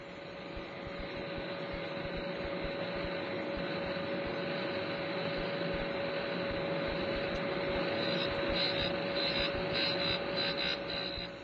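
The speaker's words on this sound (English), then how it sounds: "we're using a machine called a cutter grinder" A cutter grinder grinds a metal cutting tool, producing a steady, loud machine drone with a constant whining hum and faint gritty texture throughout.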